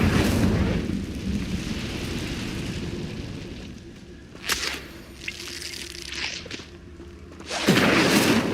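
Incendio fire spell cast in Hogwarts Legacy, heard as a sharp whooshing burst of flame followed by crackling bursts and a louder fiery rush near the end.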